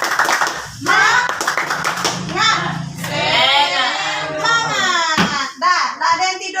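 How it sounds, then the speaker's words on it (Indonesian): Classroom children perform a rhythmic spirit clap (tepuk semangat), with patterned bursts of hand claps at the start and then loud, chanting children's voices taking over. "ayo kita dulu tepuk semangat"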